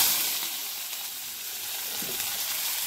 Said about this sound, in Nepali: अब म प्याज लगाउँछु